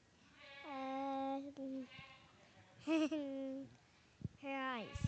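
Dairy goat at a youth dairy goat show at the state fair gives three loud, wavering bleats, with a short gap between each, close by with barn noise between calls.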